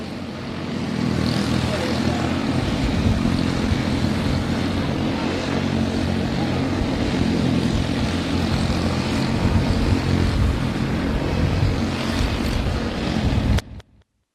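Quarter midget race cars drone steadily through warm-up laps at the Cactus Cup Nationals, a loud, continuous buzzing engine roar that holds steady before cutting off abruptly, with an announcer talking over it.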